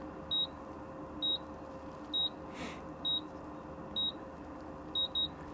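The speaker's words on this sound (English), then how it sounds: "So we get the double beep, and it's all the way down." Short electronic beeps from the bow thruster control on a Moody 45 DS sailboat repeat at a steady pace, ending in a quick double beep, over a constant low mechanical hum.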